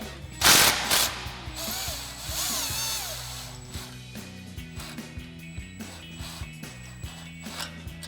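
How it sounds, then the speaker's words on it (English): An impact wrench fitted with a 13 mm socket loosens an exhaust clamp, opening with two loud, close bursts of hammering and then a long series of short, sharp rattling pulses at a steady rhythm. "grab our 13 mil socket on our impact, loosen up this clamp, get it out of the way"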